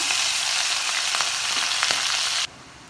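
Onions hitting hot oil with cumin seeds set off a loud, steady sizzle and crackle that carries on for a few seconds, then suddenly drops to a quieter hiss.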